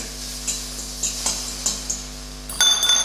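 Eggs fry in a pan for fried rice, three or four at a time, a soft steady sizzle broken by light scraping taps as they are stirred and turned, ending in a brief louder clatter.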